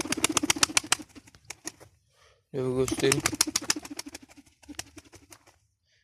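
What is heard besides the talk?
pigeons cooing and flapping wings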